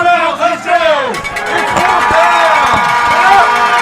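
A large crowd cheers and roars at a high school state championship football playoff game, a loud continuous swell with a commentator talking over it throughout.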